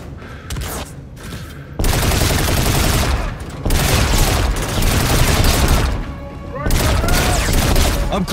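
Loud, dense gunfire fills a sci-fi shooter game set against a Martian fleet, with sustained bursts of shots and booms that drop out briefly and return in continuous volleys.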